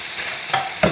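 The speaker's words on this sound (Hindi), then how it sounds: "देसी घी ऐड किया" Desi ghee sizzles in a karahi of beef shinwari, a brief close hiss broken by a couple of sharp stirring scrapes.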